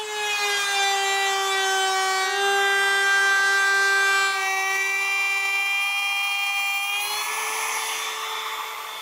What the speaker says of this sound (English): To get started, I'm cutting out the material for the rails, and I'm using some pieces of rough maple for that